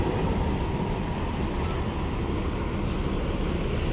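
A large black bus from Bejau rumbles past on a road, a steady loud roar of engine and tyres filling the whole stretch, with a faint brief hiss near the end.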